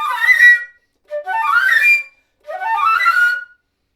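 A scale passage from Prokofiev's Classical Symphony played fast up to tempo on a flute: three quick, breathy upward runs separated by short silences, close and fairly loud.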